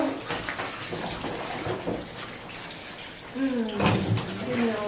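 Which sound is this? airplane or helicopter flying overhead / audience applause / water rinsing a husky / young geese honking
water rinsing a husky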